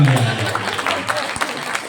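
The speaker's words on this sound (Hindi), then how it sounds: "एक बार ताली बजा दो।" An audience at a motivational talk gives a short burst of applause, close and fairly loud, with a voice over it.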